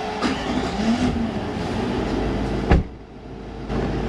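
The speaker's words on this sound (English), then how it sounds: "so I'll have to start up the car." A car engine turns over with a brief sharp crank and settles into a steady idle hum, loud and close, with no voices.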